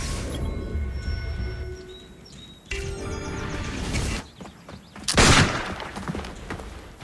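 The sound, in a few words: gunfire from a shooter in Assassin's Creed Brotherhood video game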